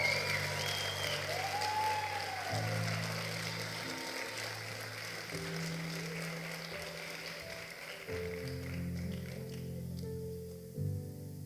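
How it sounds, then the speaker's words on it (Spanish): A church congregation applauding during a worship service, sustained steady clapping from a crowd, with low sustained music tones underneath and no speech. "Vamos, dale un mejor aplauso al Señor."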